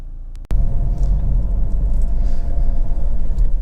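A Vauxhall Insignia 2.0 CDTi ecoFLEX SRi Sport Tourer diesel runs close by with a steady, dense rumble that starts abruptly after a brief quiet moment and holds evenly, with no voices.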